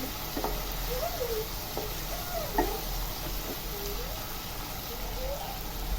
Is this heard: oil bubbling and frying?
yes